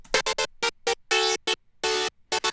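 A synth lead patch built in Vital, shaped by multiband compression, plays a choppy phrase of bright, buzzy stabs and a couple of longer held notes, loud and upfront with short silences between hits.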